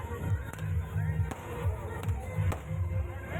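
Firecrackers burst at a night temple festival in Rayudupalem, with several sharp, fairly distant cracks at irregular intervals over a constant background rumble and faint voices.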